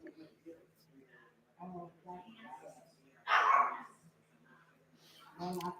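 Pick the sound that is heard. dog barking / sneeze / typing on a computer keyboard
dog barking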